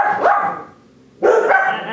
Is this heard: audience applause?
no